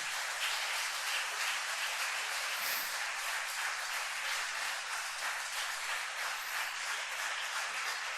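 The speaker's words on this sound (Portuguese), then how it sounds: "Você pode aplaudir Ele por isso?" A church congregation applauds during a sermon, a steady, fairly faint wash of clapping that holds evenly throughout with no voices over it.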